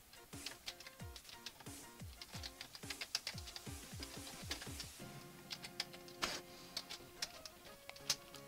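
Quick bursts of key clicks come from a computer keyboard, close and soft, with irregular runs of taps and short pauses, alone and without any talk.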